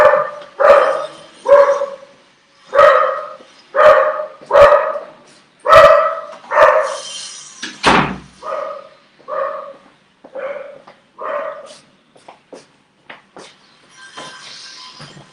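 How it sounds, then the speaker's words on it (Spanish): Dogs bark at an arriving delivery person, a loud series of sharp barks in rapid bursts that grow sparser and fainter toward the end. "Llegó alguien, algún proveedor por allí, entonces las perras se alborotaron."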